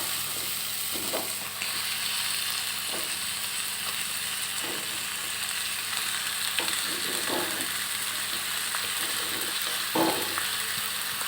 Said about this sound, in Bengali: মশলা কষানো হয়ে গিয়েছে এবারে এর ভিতরে দিয়ে দেব চিকেনের টুকরাগুলা